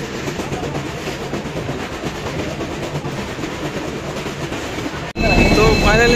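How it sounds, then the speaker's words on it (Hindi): A train pulling out of Balasore station in Odisha, a loud steady rumble of wagons rolling past that turns into a roaring rush with squealing wheels at the end. "ଆଉ ଆମ ଟ୍ରେନଟା ପଳଉଛି"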